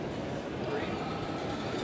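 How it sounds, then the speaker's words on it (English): A roller coaster sound effect plays at a theme park trade expo entrance, a continuous rumbling, rolling roar with a faint clatter, steady and moderately loud throughout the short stretch. "You can hear the coaster go by"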